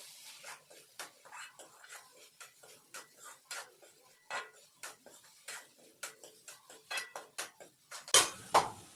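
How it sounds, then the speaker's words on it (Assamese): Metal utensils clink and scrape against a pot while khichdi cooks in a home kitchen, a quiet series of short taps and stirs at close range, ending in a louder clatter. "এতিয়া খিচাৰি বনাই আছোঁ"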